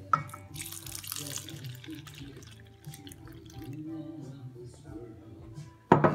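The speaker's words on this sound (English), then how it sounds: "once you've whisked together your egg and water mixture, then you just pour it in the middle." Whisked egg and water mixture is poured into a well of flour, a soft trickling, splashing pour that runs for several seconds, with faint clinks and a brief louder knock at the end.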